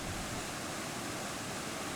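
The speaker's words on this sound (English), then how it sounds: "The waterfall you see there is the water that's flowing over the top of the bridge deck." Flooded river water pouring over a bridge deck like a waterfall, a steady, dense rushing roar heard from a distance with no voices.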